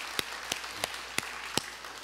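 A church congregation in a Korean worship service gives a brief round of applause. Five or six sparse, distinct claps land about a third of a second apart over a quiet room, with no voices.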